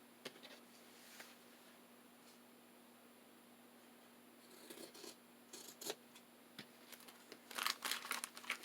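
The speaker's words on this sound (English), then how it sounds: "Just wanting to cut right to the corner of the cardstock." Scissors trim fabric glued over cardstock at the corner, making faint, close snips and crinkly rustles that grow busier toward the end in an otherwise quiet room.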